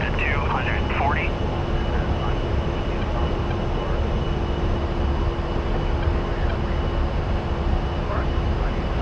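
A-10A jet in the DCS World flight simulator rolls for takeoff, its engine roar a steady, loud broadband rumble with a constant whine throughout, while radio-style voice chatter plays over it.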